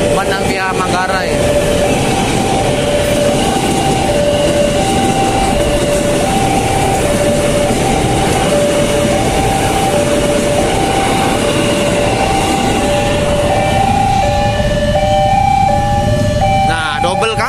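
A mixed conservation special train carrying wheelsets and scrap wagons rolls past on railway tracks near Manggarai, Indonesia. It makes a loud, continuous rumble over about seventeen seconds while a repeating two-tone signal chimes, and people talk nearby.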